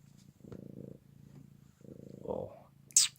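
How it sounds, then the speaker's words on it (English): A pet cat named Minnox purrs steadily and close, a low rhythmic rumble in repeated bursts, with a brief soft vocal sound near the end. "And as you can hear her, she's purring her head off."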